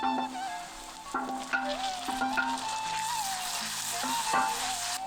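Onions and tomato sizzling in hot oil with salt, with a spatula scraping and stirring the pan in uneven strokes, while cooking village-style goat intestine fry.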